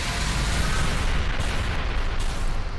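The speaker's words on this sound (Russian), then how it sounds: "бомбы взорвались" Bombs explode in the PC video game In Verbis Virtus, a dense, loud rumbling blast that fills the whole short moment with sustained low booming and crackle.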